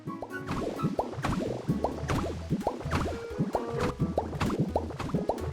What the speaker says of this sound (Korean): 블럭에 물을 뱉어 자그마한 폭포도 만들어줬습니다